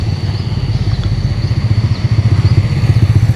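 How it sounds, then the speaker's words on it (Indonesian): A small vehicle fitted with a loud 'serigala' (wolf) exhaust rumbles past close by, giving off rapid, throbbing low pulses that grow stronger toward the end. "Ada suara knalpot serigala teman-teman, subos nih."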